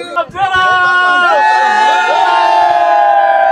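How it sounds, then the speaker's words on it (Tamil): A crowd celebrating at a cricket final, cheering and whooping loudly and continuously, with excited voices and shouting rising over a dense hubbub after a brief lower opening. "ஆர்ப்பரியுங்கள், ஆரவாரம் செய்யுங்கள்."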